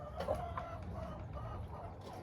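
Rooster and hens clucking inside a henhouse, a steady close chorus of short clucks and murmurs with a brief louder cackle near the start.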